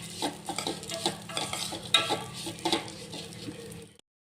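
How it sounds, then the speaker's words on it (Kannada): Vermicelli frying and being stirred in a pan for shavige payasa, a steady sizzle broken by repeated scraping stirs, close and moderately loud, then cutting off abruptly. "ಸ್ವಲ್ಪ ಕೆಂಪಗಾಗೋವರೆಗೂ ಫ್ರೈ ಮಾಡ್ಕೊಳ್ರಿ"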